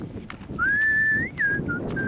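A man whistles a simple melodic tune while walking the coastal path from Alnmouth to Seahouses, a clear held note rising then broken into short phrases over outdoor wind and footstep rustle.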